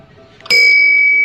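A single bright electronic doorbell chime rings out sharply and then holds a sustained tone, loud and close, with no one speaking.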